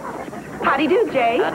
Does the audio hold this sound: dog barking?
yes